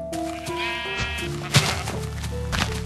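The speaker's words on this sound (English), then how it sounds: "Ooh, I found a lot of sheep." Several sheep bleat in Minecraft, overlapping wavering cries over a steady background hum, with one brief thump near the middle.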